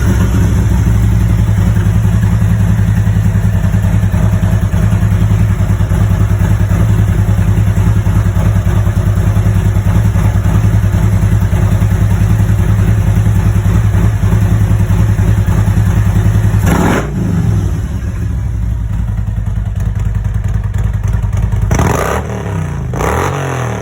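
A very hot Harley-Davidson Road King Special with an M8 engine idles steadily and loud up close, its deep throb running unbroken, with a couple of brief revs or shifts in loudness near the end.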